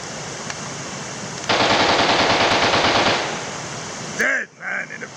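Automatic AK-47 rifle fire outdoors on a soft evening, one sustained rapid burst of evenly spaced loud shots lasting under two seconds, then a ringing tail and a few fainter echoes.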